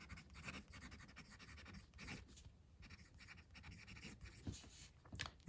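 A steel medium fountain pen nib from a Yovo Aero scratches across paper while writing, a faint, close, dry rasp in short irregular strokes with small pauses, no voices over it.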